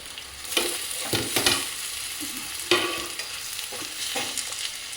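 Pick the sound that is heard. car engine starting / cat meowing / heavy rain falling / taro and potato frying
taro and potato frying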